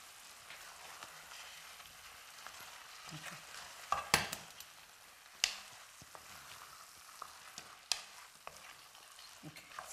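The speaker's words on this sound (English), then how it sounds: "So I put my okra in there. Interesting. And then I stir." A spoon stirs okra in a cooking pot for a Nigerian dish, with soft continuous scraping and sizzling broken by a few sharp metallic clinks. It sounds close, and no one speaks.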